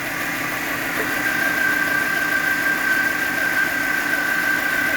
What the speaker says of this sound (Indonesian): kita mendengarkan suara asli mesin, dia seperti ini.